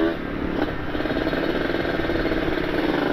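A Kawasaki Ninja RR two-stroke motorcycle fitted with an ABRT20 aftermarket exhaust idles nearby, a steady loud raspy engine drone with no clear revving.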